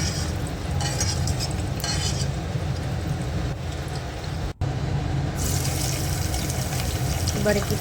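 Cashews and a few raisins fry in a little oil in a kadai, with steady low sizzling, spoon stirring and occasional clinks of utensil on the pan throughout.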